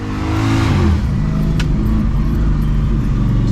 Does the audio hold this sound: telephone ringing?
no